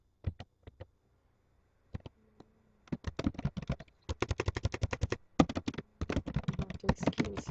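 Rapid typing on a computer keyboard, a few isolated key clicks first, then dense bursts of fast keystrokes in quick runs with brief pauses, close and fairly quiet with no talking.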